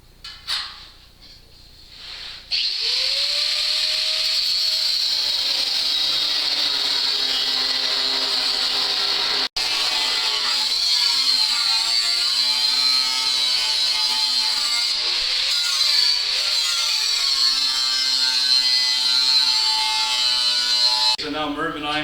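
A power tool cuts away a section of a 1968–1972 Chevelle frame before boxing plates go in for a K-brace installation. After a short pause it starts and sustains a loud, steady, high-pitched whine to the end, with one brief break midway.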